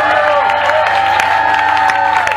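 Audience at a live brass-band concert in a small hall clapping and cheering, a dense continuous wash of applause with a sustained tone ringing over it.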